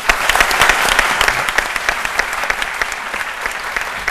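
Studio audience applauding on a French daytime television talk show, a dense steady burst of clapping that stays loud throughout and tapers slightly toward the end, with no voices over it.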